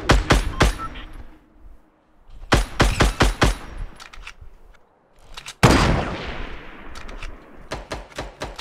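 Bursts of gunfire in a Fortnite Battle Royale match, loud and close: several sharp rapid volleys separated by short pauses, with one heavy blast partway through followed by more quick shots.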